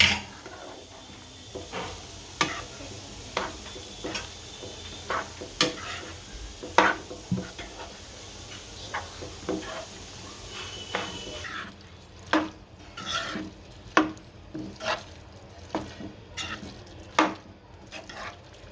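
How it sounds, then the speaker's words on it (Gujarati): Masala pasta stirred in a pan, a steady run of sharp spoon clicks and scrapes against the metal every second or so over soft frying sizzle, close and clear with no talk. "હવે પાસ્તા નાખશું આપણે. અને ભેળવી નાખીએ."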